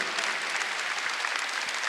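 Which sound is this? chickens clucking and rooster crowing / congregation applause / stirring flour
congregation applause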